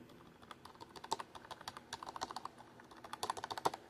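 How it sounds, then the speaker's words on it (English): Rapid clicking keystrokes on a Harry Potter–themed wireless keyboard, a steady close run of light taps with a few sharper, louder hits near the end, with no voices. "And then I also got this cool Harry Potter wireless keyboard."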